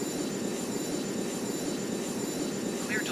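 An airplane on approach to land on runway 09 gives a steady, moderately loud engine roar that holds level throughout, with no talk.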